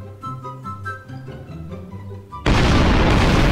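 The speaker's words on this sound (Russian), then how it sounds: "Она очень просто красиво взрывается." A bomb goes off in Garry's Mod: after a stretch of melodic tones, a sudden loud blast erupts and roars on as a sustained, noisy explosion until the end.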